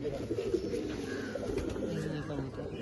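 Old pigeons kept in a loft coo in soft low repeated calls close by, with faint background noise underneath.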